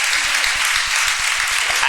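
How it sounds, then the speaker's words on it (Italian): A conference audience claps in a short, dense burst of applause that stays steady and fairly loud throughout. "E adesso prendete anche il terzo."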